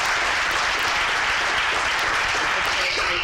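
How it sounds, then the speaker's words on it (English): Steady applause from the audience at the 2017 Nuclear Innovation Bootcamp closing event, a continuous, fairly loud clatter of many hands for a few seconds, with voices mixed in underneath. "Applaud for him one more time,"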